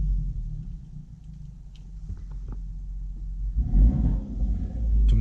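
A Hyundai Veloster JS 1.6 T-GDi engine idles with a low, steady rumble, then grows louder and rougher near the end as a switchable exhaust opens up.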